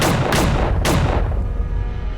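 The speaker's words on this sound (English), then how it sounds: "all he heard was gunfire." Several sharp gunshots in quick succession, loud and close, each followed by a booming echo that fades into a lingering rumble.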